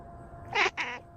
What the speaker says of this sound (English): Well, those are kitties.